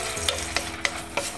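Onion fries with crushed tomato in an electric tagine, a low sizzle broken by four evenly spaced clacks of a utensil stirring against the pot, close and fairly loud, with no talk.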